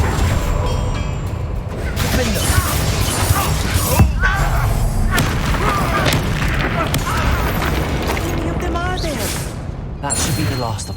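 In Hogwarts Legacy, a Bombardo blasting spell explodes with heavy booms and shattering crashes amid loud, busy game effects, with bursts that repeat throughout.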